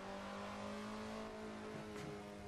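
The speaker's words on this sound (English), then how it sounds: "Oh man, this thing just revs and revs." An Alfa Romeo 33 Stradale engine revs in the Assetto Corsa racing game, a steady tonal engine drone with a brief pitch shift near the end, close and alone without talk.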